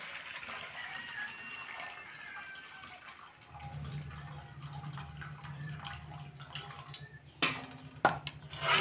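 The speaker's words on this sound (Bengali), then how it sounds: "এটা আমি জলটা ফেলে দিচ্ছি।" Water poured off boiled lemons being prepared for a lime pickle, a continuous splashing pour into a sink that grows louder partway through, ending with a few sharp clatters.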